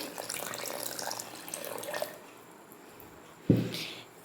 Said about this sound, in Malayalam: നമുക്ക് ഇതിലേക്ക് ആവശ്യമായ കുറച്ച് വെള്ളവും കൂടി ചേർത്ത് കൊടുക്കുന്നുണ്ട്